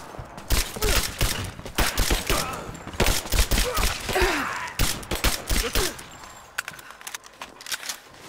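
Bursts of gunfire in the video game Rise of the Tomb Raider, sharp repeated shots cracking close in rapid volleys, thinning out toward the end with scattered single reports.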